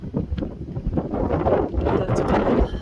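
Strong gusts buffet the microphone atop the mesa at Mesa Verde, a continuous loud, rumbling wind roar with surging swells throughout and no talk.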